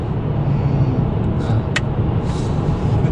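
A Kia K7 with a 3.3 engine cruising on the road, giving a steady, even hum of engine and tyre noise from inside the car, with no sharp revving.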